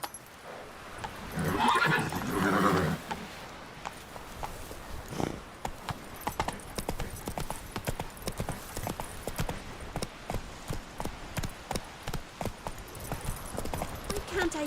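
Roach, Geralt's horse in The Witcher 3, clip-clops at a steady gallop throughout, with a brief neigh or burst of louder hoofbeats near the start and faint ambient game sound beneath.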